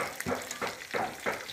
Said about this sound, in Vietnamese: Đây này, đây các cô đang rán món tôm chiên xù.